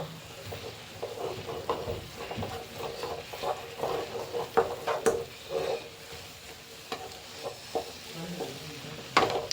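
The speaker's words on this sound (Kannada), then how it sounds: "ಮಸಾಲೆ ಹಾಕಿ ಮಿಕ್ಸ್ ಮಾಡ್ತಾ ಇದ್ದೀವಿ" Masala gets stirred into egg Maggi noodles in a sizzling pan: soft scraping strokes and light clicks of the utensil over a low frying hiss, close and fairly quiet, with no talking.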